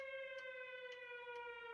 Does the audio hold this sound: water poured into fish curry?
no